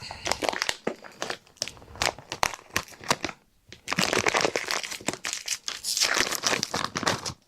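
A package of PLA 3D printer filament being opened, loud close crinkling and tearing of plastic wrap in repeated bursts with a short pause midway.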